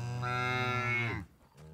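A single long, loud cow moo, steady and tonal for about a second before it fades out; nothing else is heard.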